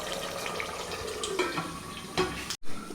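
Water draining from soaked rice in a pot while cooking a one-pot bachelor chicken biryani, a steady close running and splashing wash of water that breaks off abruptly near the end.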